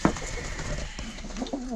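Soft, low cooing of Czech pouter pigeons nearby, a short throaty murmur with no talking.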